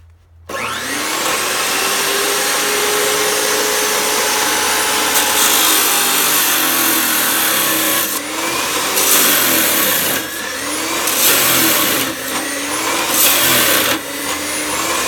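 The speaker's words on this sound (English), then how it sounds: "So let's cut some rebar." A 14-inch chopsaw grinds steadily through rebar, its loud, continuous abrasive whine close to the listener for the full fifteen seconds. The tone shifts and surges slightly as the blade bites into the metal, with no voices over it.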